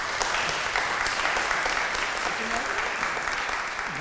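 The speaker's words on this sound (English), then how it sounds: "So can we have a round of applause for the Hankins?" An audience at a pottery history lunch talk claps steadily and loudly for the Hankins, a dense, even wash of applause from start to finish.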